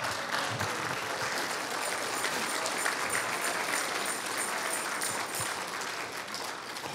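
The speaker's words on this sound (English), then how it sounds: "Let's give the Lord a hand clap for that" A church congregation claps their hands together in a steady, dense wash of applause that holds at an even level throughout, moderately loud and filling the room, with no talking over it.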